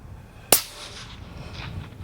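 A single sharp, loud rifle shot from an Accuracy International AT-XC fired off a barricade, a sudden crack followed by a brief fading echo and quiet background.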